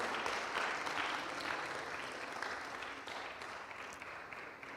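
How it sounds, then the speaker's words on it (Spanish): Church congregation claps together during a worship service, a broad, sustained burst of many hands filling the room at moderate level and easing slightly toward the end. "Démosle un fuerte aplauso al Señor, hermanos."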